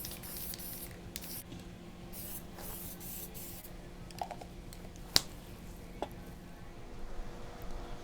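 Spray paint hisses in short bursts onto a motorcycle's rear section, with gaps and faint handling clicks between passes at close range.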